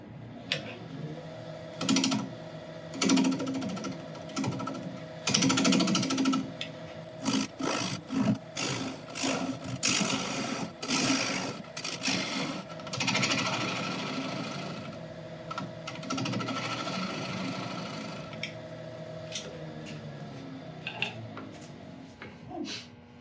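A wood lathe spins an elm bowl as a tool cuts away the center nub, giving a close run of rapid chattering scrapes and ticks over a steady motor drone that continues alone once cutting stops.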